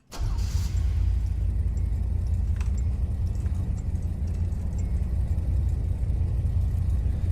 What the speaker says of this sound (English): You got the nice old car idle here